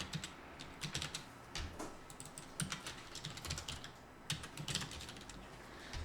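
Keys clatter on a computer keyboard in quick irregular bursts of clicks and taps while text is entered into a blog editor, close and fairly quiet, with no voices.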